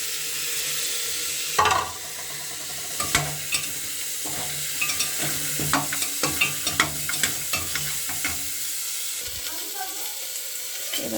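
Mutton frying in a pan, a steady sizzle broken by repeated scraping and clinking strokes of a spoon stirring the meat, close and fairly loud with no talking.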